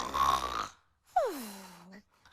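A human voice imitates snoring, with a drawn-out nasal inhale followed by a falling, rattling snort, two quiet close-up sounds separated by a short silence.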